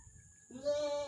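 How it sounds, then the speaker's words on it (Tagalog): A goat gives a single short bleat up close: a brief, wavering, nasal cry that follows a moment of soft background sound. "Sweet goat."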